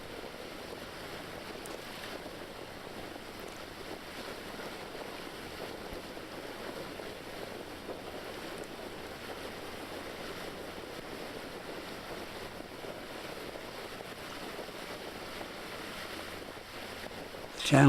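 Steady breezy wind rushes over open river water as a boat cruises slowly along a channel, a continuous broadband whoosh with surf-like wash, fairly constant throughout with a brief louder gust at the very end.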